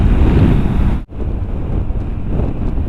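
Strong wind buffets the microphone with loud low rumbling gusts outdoors in an area of windmills, briefly cutting out before resuming steadily.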